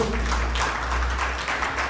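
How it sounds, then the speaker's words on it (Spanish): Applause from a church congregation giving praise to God during a Spanish-language sermon, a dense steady wash of clapping lasting throughout with a low hum underneath. "Démosle un aplauso al Señor."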